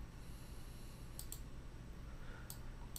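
Computer mouse clicks on a desktop, two quick pairs of sharp, faint ticks spaced apart over a steady low background hum, no talking.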